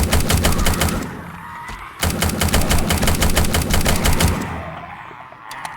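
Rapid automatic gunfire rattles loudly in the zombie survival game Undead Legacy: a dense burst, a split-second break, then a second long burst that tapers away, with no voices.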